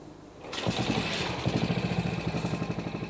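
A classic Moto Guzzi motorcycle engine in a restoration workshop starts up and settles into a steady, close, rhythmic thudding idle with a regular pulsing beat.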